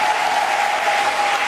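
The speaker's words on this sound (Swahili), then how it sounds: "Pigia Yesu makofi ya sifa na vigelegele." A church congregation bursts into steady, dense applause in praise, with a thin high ululating tone running through it, loud and continuous for the whole short stretch.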